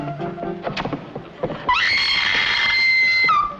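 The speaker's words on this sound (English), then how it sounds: "Do I hear a lady screaming?" A woman's loud, sustained scream in an old black-and-white film rises suddenly and holds for nearly two seconds, following a stretch of muffled voices and bumps.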